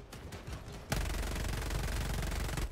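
Sustained rapid gunfire aimed at a tower in a video game, a loud continuous burst that starts abruptly after a quieter stretch of scattered shots and holds steady to the end.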